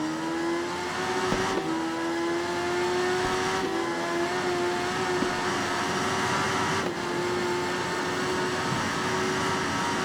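Video-game Kawasaki ZX-10R sport bike races around Monza, its engine holding a steady high-pitched whine with a few brief gear-shift dips, loud and continuous throughout with no talk.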